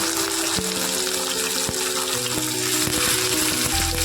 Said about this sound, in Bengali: হালকা হাতে মাছগুলো ভেজে নেবো,